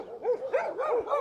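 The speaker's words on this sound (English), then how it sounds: "dog here, dogs everywhere." A small, leash-reactive dog barks on a walk, giving a quick run of sharp, high yapping barks close by, one after another.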